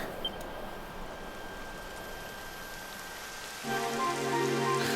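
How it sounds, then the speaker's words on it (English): Rain begins falling in the game Dragon Quest 11, a steady soft hiss of drops on a surface that thickens and grows louder toward the end, joined by a few brief tonal notes. "It would have to go and start raining, wouldn't it?"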